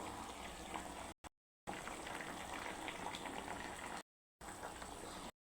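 Fish pieces sizzling in a small amount of hot oil, a steady close hiss and crackle with short breaks of silence between bursts.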